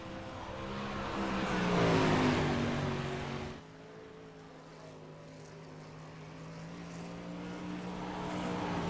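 Race car engines drone in iRacing qualifying on a speedway, a loud passing whine sweeping down in pitch before a steadier, quieter engine tone continues.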